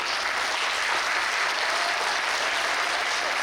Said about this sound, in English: Let's give a round of applause for British Columbia, beautiful British Columbia.